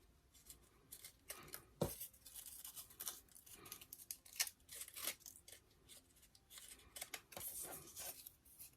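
Scissors cutting crepe paper for handmade paper artichokes, a quiet run of short snips and rustling paper strokes in an uneven rhythm, close and faint with no talking.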